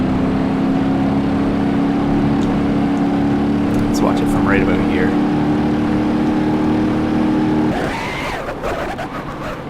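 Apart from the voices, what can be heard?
car engine running in BeamNG.drive video game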